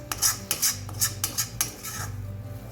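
Mutton pepper fry stirred over a very low flame in a thin kadai, a spoon scraping and clinking against the metal in a quick series of close strokes.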